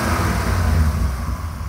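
A Dodge Viper GTS engine burbles low and rough from inside the car, a steady rumble with faint crackles, no speech over it.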